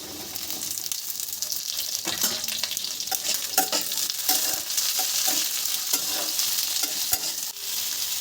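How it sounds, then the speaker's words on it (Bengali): Cut potatoes frying in oil while being stirred around a pan: a continuous close sizzle broken by repeated scraping and clattering stirs. "এবার আমি কেটে রাখা আলুগুলো এর মধ্যে দিয়ে দিলাম।"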